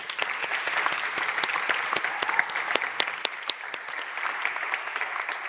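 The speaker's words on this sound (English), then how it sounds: "let's have a big round of applause for all our panelists" Dense, steady applause from a seated audience honoring panelists at a university sustainability day opening event, continuous and fairly loud for the whole stretch with sharp individual claps standing out.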